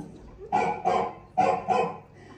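A person imitates a dog barking: four throaty woofs delivered in two quick pairs, close and fairly loud.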